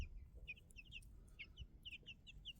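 Day-old chicks peep in a brooder with a steady run of high, quick chirps that overlap one another, close by and fairly soft over low background rumble.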